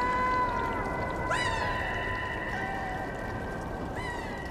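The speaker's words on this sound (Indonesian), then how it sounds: "Banyak kucing liar apa gimana ini?" Cat meows in the video game Stray, a couple of short rising tonal calls over a steady hum of game ambience, fairly clear and not masked by talk.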